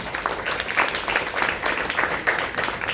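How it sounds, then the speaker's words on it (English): An audience gives a round of applause for Deborah, a speaker at an event on combating antisemitism; dense, steady clapping fills the room, moderately loud and continuous, with no voices over it. "So let's give Deborah a round of applause."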